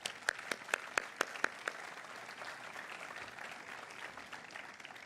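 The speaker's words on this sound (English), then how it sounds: "Let's all give them a round of applause for making it here today." Audience applause at a memorial belltower celebration for former student carillonneurs, opening with several sharp, distinct claps that quickly blend into a softer, steady round of clapping at moderate distance.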